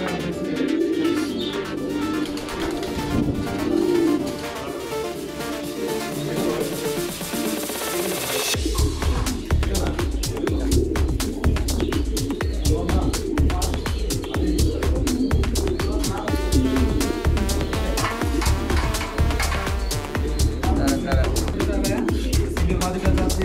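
Fancy Indian pigeon breeds coo and call in a loft, a dense layer of bird sounds that gets fuller and louder partway through, with a voice in the background.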